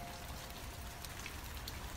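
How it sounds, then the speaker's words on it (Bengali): Steady rain falls and patters on a surface, a dense, even hiss with scattered drops, continuous and moderately loud throughout. "গত কয়েকদিন বৃষ্টি যেন পিছুই ছাড়ছে না।"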